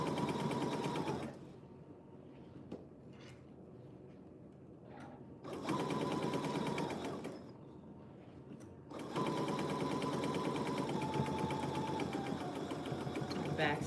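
Home sewing machine stitching a quilt with purple thread, running in three bursts of rapid mechanical whirring with quiet gaps between them, close and clear.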